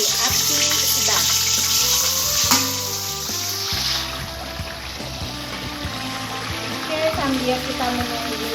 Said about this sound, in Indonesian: Kita goreng ikannya ya ibu-ibu di minyak yang sudah panas.